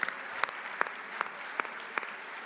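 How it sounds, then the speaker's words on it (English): Audience at the CAF Awards 2025 ceremony clapping for the people of Morocco, heard as quiet, sparse claps coming in separate bursts at a loose, slightly rhythmic pace. "Can we clap hands for the people of Morocco?"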